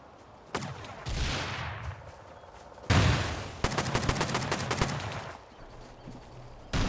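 Video game gunfire from flanking shots near a bunker: several sharp bursts and a rapid string of shots, loud and close, with gaps of quieter ambience between them.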